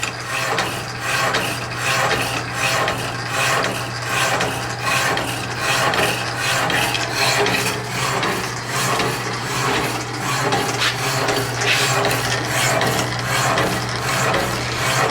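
A power hacksaw cuts through a one-inch-square bar of steel in a machine shop, a steady rasping stroke repeating about every half second over a constant low motor hum, loud and close throughout.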